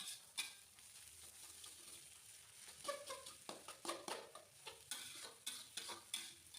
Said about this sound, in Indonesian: Aku aduk-aduk supaya tercampur merata semua bumbu-bumbunya.